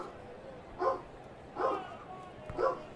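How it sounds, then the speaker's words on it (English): Dogs barking indoors in the distance, three separate bark bursts spaced about a second apart, moderately faint against quiet room noise. "Where I go and check on what the dogs are barking at."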